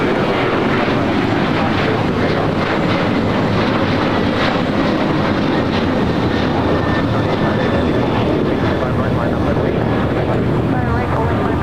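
An old ABX Air Boeing 767-300ER converted freighter departs, its engines a loud, steady broadband roar sustained throughout with no talk over it.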